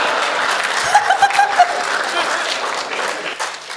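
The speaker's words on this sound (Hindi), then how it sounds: "इसमें पुरुषों ने सबसे ज्यादा ताली बजाई" A live comedy audience claps and laughs in a hall, with the men clapping loudest. A dense wash of applause swells in a few peaks and then slowly fades, mixed with chuckles.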